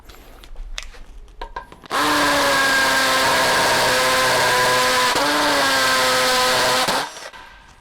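A Topshak TS-ED1 hammer drill bores into brick with a 10 mm bit, a loud steady whine with a gritty hammering edge lasting about five seconds, preceded by faint handling clatter and ending abruptly.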